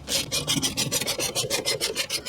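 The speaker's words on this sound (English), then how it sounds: "Tighten those bolts down and that will act as a force screw and pull this drum off of the hub." Bolts being threaded and tightened into the rear brake drum of a Honda Accord, a rapid, steady rasping ratchet of close metal clicks repeating throughout, with no voices.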